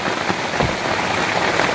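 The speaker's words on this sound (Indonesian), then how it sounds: "Diguyur hujan terus." Heavy rain pours steadily onto a camping tent at night, a dense, continuous hiss of drops drumming close and loud with no pauses.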